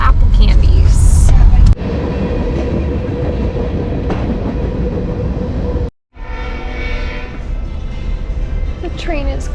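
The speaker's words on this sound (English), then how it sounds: "The train is going by." A train rolls through Cashmere, Washington, a steady loud rumble and rattle of rail cars that runs nearly the whole stretch, with a brief horn-like burst near the start and people talking over it.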